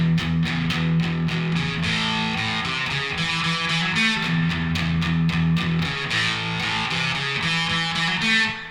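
A distorted electric guitar plays a repeating, chugging riff, loud and close, with no other instruments.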